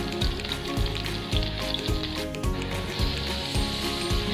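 Onion and garlic sautéing in a pan, a loud continuous sizzle with regular scraping stir strokes roughly every half second, close and alone with no talking.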